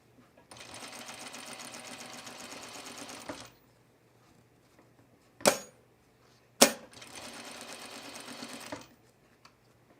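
A sewing machine stitches a zipper onto a 1930s-inspired blouse in two steady runs of about three seconds each, separated by a quiet pause with two sharp clicks from lifting the presser foot.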